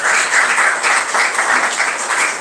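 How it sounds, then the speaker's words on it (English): Audience at a community event in Hull clapping together in a dense, steady round of applause that stays loud and even throughout, with no voices on top. "So give yourself a big round of applause."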